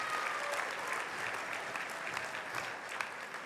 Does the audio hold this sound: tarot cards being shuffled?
no